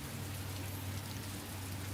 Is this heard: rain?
yes